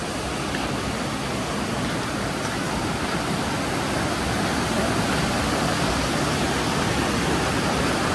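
Mountain stream beside a restaurant in Ha Giang rushes in a steady, dense broadband roar that fills the whole stretch, with no voices heard.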